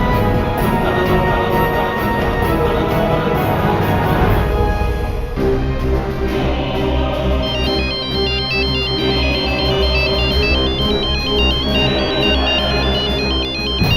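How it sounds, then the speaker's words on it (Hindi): A mobile phone ringtone plays loudly and continuously, a looping electronic melody whose pattern shifts partway through, with no talk. "कबीर का फोन"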